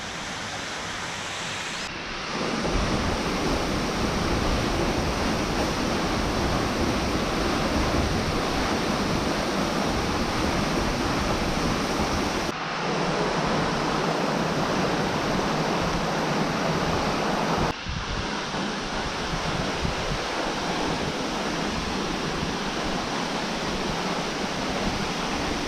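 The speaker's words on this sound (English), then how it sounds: "Meanwhile though, the creek's nice." A creek rushes near a waterfall, a loud, continuous broadband roar of water, close and steady, with two brief cuts in the recording.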